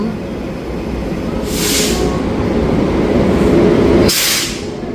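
Kanchanjungha Express LHB train at a Sealdah station platform in the early morning, a loud rumbling drone with two sharp hissing air-brake bursts, heard close with no talk.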